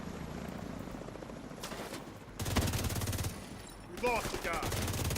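A helicopter in the shooter game The Division thumps under continuous bursts of automatic gunfire and scattered shots, dense and loud throughout, with a short electronic chirp near the end.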